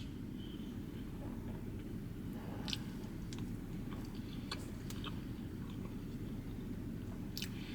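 Close, quiet chewing and biting of a dense chocolate cake from PF Chang's, soft wet bites over a steady low room hum, with no talk.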